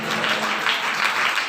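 Congregation at a Sunday church service clapping loudly together, a steady dense patter of many hands filling the room without pause for a brief moment, with no voices over it.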